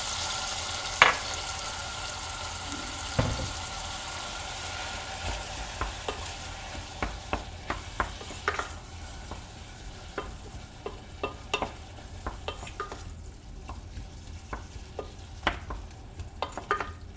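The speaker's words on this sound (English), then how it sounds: "So I'm going to let the tomatoes cook down as well before I start adding in our beans." Chopped tomatoes cook with softened onions in a pan for ful, giving a steady low sizzle broken by scattered clicks and scrapes of stirring, heard close with no talking.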